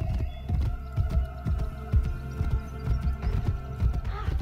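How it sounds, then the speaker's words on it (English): Horse hooves clip-clop steadily in the Assassin's Creed Brotherhood video game, a low rhythmic thudding gait heard continuously under a droning hum and background game sounds. "Horse can't be asked to run anymore."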